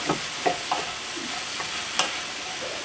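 Onions sizzling and frying in a pan for green rice, a steady hiss with a few soft stirring knocks scattered through, close and moderately loud with no talking.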